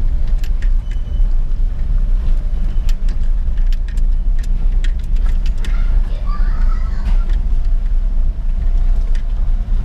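A Volkswagen Fox 1.6 with an iMotion gearbox rolls slowly over a potholed street, a low steady engine rumble with repeated clunks and rattles from the bumps, close and continuous, while someone talks over it.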